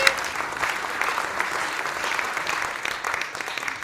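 An audience at a Sainte-Julie community beautification contest awards evening applauds an absent prize winner, a soft, even wash of many hands clapping steadily throughout.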